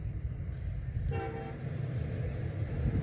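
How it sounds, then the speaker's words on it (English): An approaching train gives a brief, distant horn toot that fades quickly, over a steady low rumble of wind and ambient noise, with no voices. "There's a train coming."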